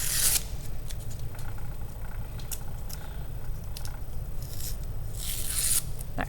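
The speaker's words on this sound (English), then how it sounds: "you may want to be more diligent about peeling off every single strip of the cardboard" Cardboard strips being peeled and scraped off a collagraph printmaking plate, producing a continuous close rasping and tearing texture with scattered sharper rips.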